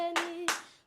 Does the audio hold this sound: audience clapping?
yes